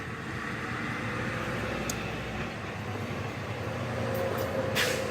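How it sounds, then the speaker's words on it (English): Steady outdoor street traffic: a continuous broad roar of passing vehicles at moderate distance, with a couple of faint brief high squeaks near the end. "so you may hear some traffic"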